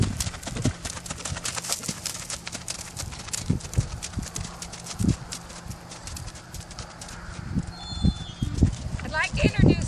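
A horse canters around an arena, hooves drumming in a steady three-beat rhythm close by, with snorting breaths and a rider talking over the footfalls.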